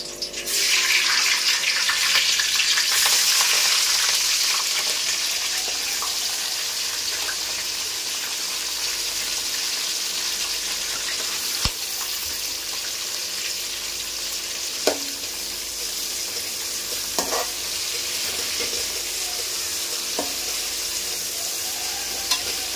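Whole spices, green chilies and onions fry in a pan for biryani with a steady loud sizzle that eases slightly after the first few seconds, joined by occasional clinks of stirring.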